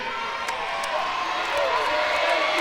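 Crowd noise at a cheerleading match in Anaheim, a broad murmur of cheering and scattered whoops held at moderate distance, with a few sharp claps poking through as people talk over it.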